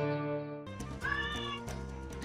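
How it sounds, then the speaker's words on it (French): A cat in a home kitchen gives a long drawn-out meow followed by shorter, higher meows, close and clear. "Et il y a mon chat qui n'arrête pas de miauler,"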